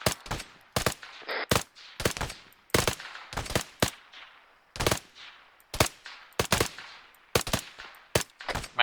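Machine-gun fire in short, sharp bursts spaced every second or so, loud and close, with quiet gaps and echoing tails between volleys.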